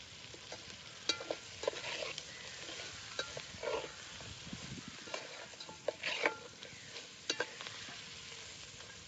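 Village-style chicken curry (kalvan) simmers in a pot as coriander is added, a soft sizzle with light stirring clinks and scrapes, quiet and close, with no talk.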